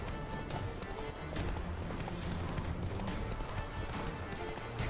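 Horse hooves gallop in a fast, steady clip-clop rhythm during gameplay of The Witcher 3, loud and continuous with faint background game sound.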